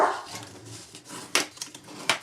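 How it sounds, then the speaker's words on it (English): A dog barks at the neighbours outdoors with a few sharp, fairly distant yelps in quick succession over a faint clatter of background household noise. "Our neighbors are outside and Sasha likes to just bark at everybody."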